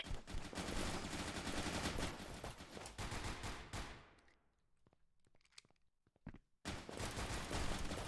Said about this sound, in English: I just heard some shots.